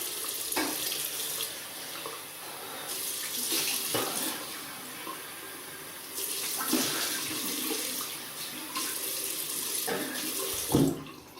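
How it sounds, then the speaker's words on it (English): Running tap water rinses off after a wet shave with Arko shaving soap, a close steady splashing that swells and dips as hands move under the stream. "So I'll just rinse off."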